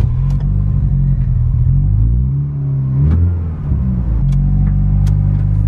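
A Honda Prelude engine warms up at idle with a loud, close, low rumble, dipping briefly and then steadying, with one short spoken word over it.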